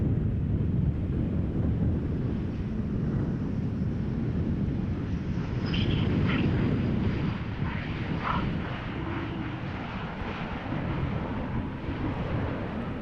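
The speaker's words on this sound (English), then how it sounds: "Actually feels like the wind is picking up just a little bit." Strong, steady wind roars and buffets the microphone outdoors at Amsterdam Schiphol Airport just after a storm, a continuous loud low rumble throughout with faint higher whistles mixed in.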